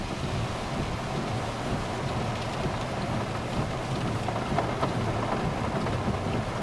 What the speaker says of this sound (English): Isn't that something, the rain?